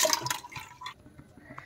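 Water runs briefly while rice is being washed, a short splashing gush that quickly fades to quiet.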